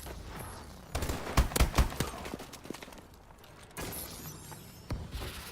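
MK14 rifle fire in Call of Duty comes in quick bursts of sharp shots over game ambience, clustered at the start and again near the end, with quieter battle noise between.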